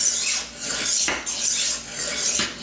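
A German kitchen knife is drawn across a Tumbler diamond rolling sharpener in about four even, rhythmic rasping passes, each one a close, gritty metallic scrape.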